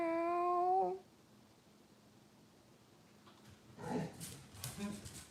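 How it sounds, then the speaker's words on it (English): Dogs bark a few times at a distance, short rough bursts arriving after a long drawn-out tonal meow-like call and a quiet pause. "Oh, now the dogs are barking."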